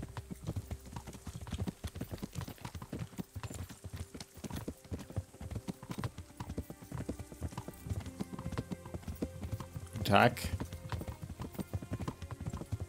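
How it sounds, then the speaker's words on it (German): Horse hooves clop steadily at a riding pace in the medieval video game Kingdom Come Deliverance, a continuous rhythmic gait with one louder burst near the end, while someone speaks briefly. "Langer Ritt, aber endlich haben wir ein Pferd."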